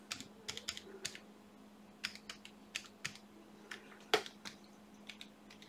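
Keys on a computer keyboard tapped in a quick, irregular run of sharp clicks while a password is typed during setup of an ESP32 2432S028 board, close and fairly quiet, with a steady low hum underneath and no talking.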